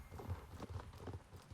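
Fjord horse hooves clip-clop in a steady rhythmic gait in Star Stable Online, soft and close with a low thudding quality.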